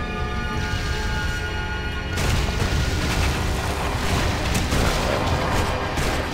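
A rapid-fire explosive attack in the video game Torchlight II, set in the Temple of Doom. After a dense game backdrop, a continuous barrage of loud booming blasts and crackling impacts starts and overlaps densely until the end.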